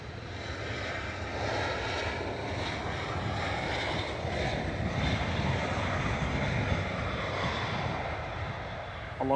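Jet engines of a British Airways Airbus A319 roar at Manchester Airport, a loud, steady broadband rumble and whine that holds for the whole stretch, with wind noise on the microphone.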